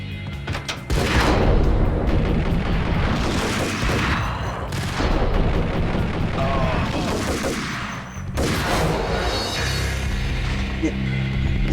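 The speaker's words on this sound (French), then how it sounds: "Il tire avec un Ingram" Ingram submachine gun fire rattles in the Max Payne video game aboard a boat, with loud bursts and booms in repeated volleys and a voice talking over the shooting.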